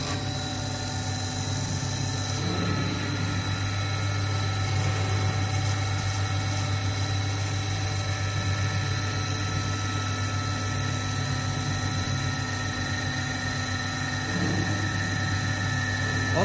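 An 850L sigma kneader runs empty during a factory blank-run test, putting out a steady, even mechanical hum and drone with constant tonal whine and no break, close and alone.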